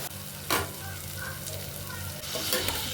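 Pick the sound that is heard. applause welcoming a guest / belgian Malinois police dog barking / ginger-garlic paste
ginger-garlic paste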